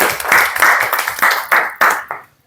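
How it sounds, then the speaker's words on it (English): Classroom applause during a spoken English accent training class rises in several short bursts of clapping from a small group. It is brief and fairly close, then fades out. "a big round of applause for them both"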